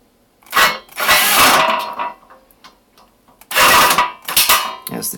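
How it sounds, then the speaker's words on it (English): Power drill driving screws into a metal standing desk frame, the chuck grinding against the metal in two loud bursts of harsh mechanical whirring separated by quieter clicks and handling noise. "As the chuck grinds up against the metal."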